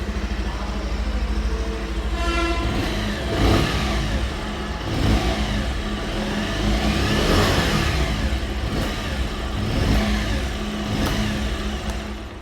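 A 2025 Bajaj Pulsar 150 motorcycle with a 149.5 cc engine revs up in close range, throttle blips rising and falling repeatedly over a steady idle, loud and continuous with no talking.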